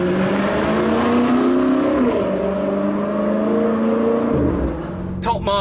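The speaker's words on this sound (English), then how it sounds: "You just lift off and listen to that burble." BMW M5 safety car engine and exhaust on a race track, a continuous droning, shifting engine note from inside the cabin with pitch changes as revs rise and fall, ending with a brief rattling burble.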